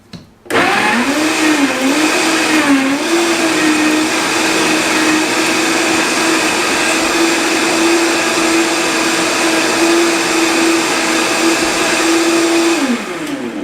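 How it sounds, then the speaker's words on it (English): A blender whirs through hot sauce ingredients, starting abruptly and holding a loud, steady motor whine with a shifting pitch early on before settling, running alone for over twelve seconds. "So let's get blending again."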